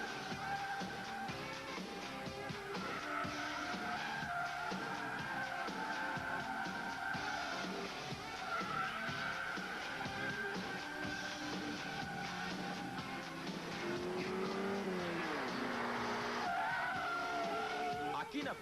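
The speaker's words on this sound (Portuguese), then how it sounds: "Aqui na pista de testes é feito um exame bastante rigoroso, onde o carro é submetido a todo tipo de prova." A car on a factory test track skids through hard maneuvers, with long wavering tire squeals over engine noise, rising and falling across the run while a voice talks over it.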